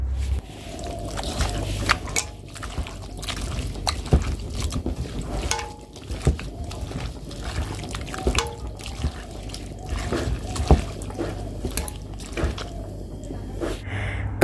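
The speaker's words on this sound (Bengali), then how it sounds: "সব কিছু দিয়ে এখন হাত দিয়ে ভালো করে মেখে নেব মাংসটার সাথে মশলাটা" Goat meat with onion, spices and mustard oil mixed by hand, making continuous close, wet squelching and sloshing in an uneven rhythm, moderately loud, with no voices.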